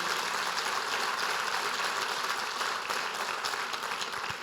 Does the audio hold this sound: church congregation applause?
yes